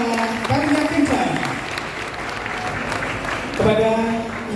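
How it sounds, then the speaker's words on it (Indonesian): Audience applause for the organizers at an Indonesian ceremonial event, a steady wash of clapping that holds throughout, with a voice speaking over it near the start and again toward the end. "Boleh kita berikan tepuk tangan untuk penyelenggara Mangga Karya Kencan"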